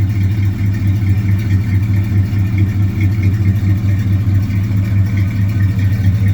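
A 1978 GMC truck that had sat unused for a long time idles through its exhaust mufflers, giving a steady, deep, throaty rumble that is close, loud and continuous, with no talking.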